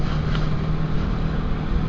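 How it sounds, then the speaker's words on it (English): A 2006 Lexus IS 220d with a 2.2-litre diesel engine ticks over at idle, a steady, continuous low drone heard close and alone throughout. "Car engine seems to tick over very nicely, seems to make quite a sweet noise."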